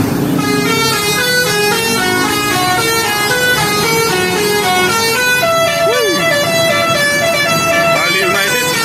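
A Bali United bus sounds a loud musical horn, its stepped notes playing a steady melodic tune that runs for the whole stretch, up close and dominant, with a voice briefly heard beneath it.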